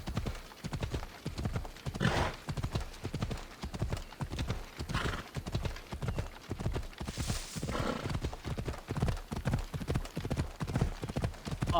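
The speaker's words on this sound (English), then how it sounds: "get me my horse" In Assassin's Creed Odyssey, a horse's hooves clop in a fast, steady gallop rhythm, broken now and then by loud neighs.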